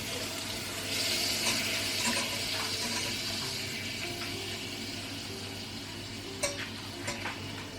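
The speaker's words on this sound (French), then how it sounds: "Déjà, tu fais fondre le beurre. Faut que je touille?" Butter melting in a pan for béchamel, stirred with a spatula, giving a soft continuous sizzle and scraping with a few sharp clicks, heard at close range over a low background hum.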